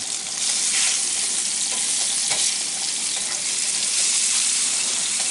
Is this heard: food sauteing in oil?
yes